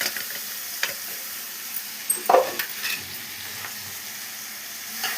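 Boiled broad beans dropped into a curry frying in a pan, with a steady sizzle, a few clunks and scrapes of a spoon, and a short burst of louder frying.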